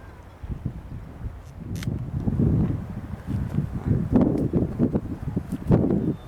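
Strong wind gusting at the San Juan Islands, a rough rumbling roar that buffets the microphone and swells and eases in gusts, with faint rustling and small knocks over it.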